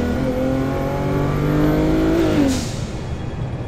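Single-turbo BMW 135i pulling hard under acceleration, engine note rising steadily in pitch through a gear, then a shift and drop in revs, loud and close from inside the car.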